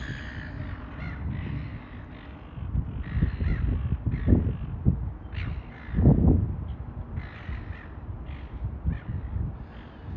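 Seagulls calling over Sydney Harbour at sunrise: a run of harsh squawks and caws at moderate distance, with two louder calls standing out over steady outdoor ambience and no talking.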